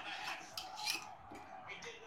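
A spoon stirs mutton curry, with water just added, in a pot over a high gas flame. It gives a few quiet metallic scrapes and clinks, close by and faint.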